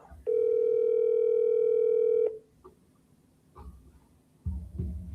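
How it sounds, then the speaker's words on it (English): A telephone tone on an outgoing sales call, one steady electronic beep lasting about two seconds, loud and clean, followed by faint clicks and a brief low murmur of a voice. "You're calling Judy from Oklahoma."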